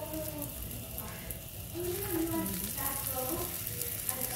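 Mooli paratha fries in desi ghee on a pan, giving a soft steady sizzle that stays quiet and even throughout.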